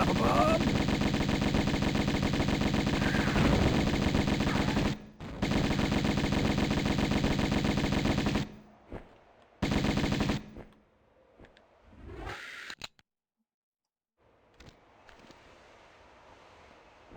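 Dual Uzi fire in Tomb Raider 1 Remastered, a dense continuous rattle of rapid shots lasting several seconds, loud and close, breaking off briefly and returning in shorter bursts before fading into quiet ambience.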